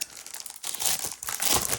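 Heavyweight double-sided 8x8 craft paper being handled, with close, loud crinkling and rustling in bursts and a brief pause partway through, no voices.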